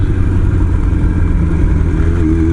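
A motorcycle engine revs hard, loud and close, a steady roaring drone that climbs and bounces against the rev limiter near the end, heard alone without talk.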